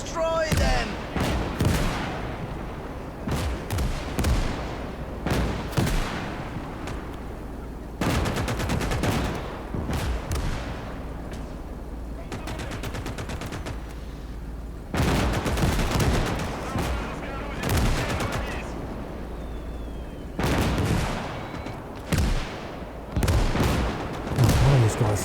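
Machine gun and artillery fire in the Gates of Hell strategy game, Finland campaign: dense bursts of automatic fire and heavy booming blasts come in waves throughout, loud and close, with voices talking intermittently beneath the battle.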